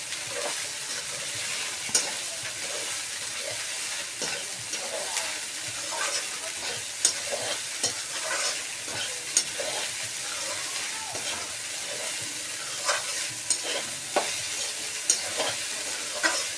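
Kanda poha gets stirred in a frying pan for three to four servings, a steady sizzle with repeated spoon scrapes and taps against the pan throughout.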